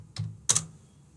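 Two short bursts of computer keyboard typing as a web address is entered into a browser's address bar, with clicky keystrokes close and fairly quiet, separated by a brief pause, and no talking.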